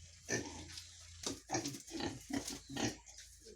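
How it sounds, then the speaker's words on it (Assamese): Pigs eating azolla mixed with feed at a farm in Assam, close repeated grunts and snorts in an uneven rhythm, with chewing and snuffling between them. "গাহৰিক খুৱাই আমি দানা কিছু বচাব পাৰোঁ আমি।"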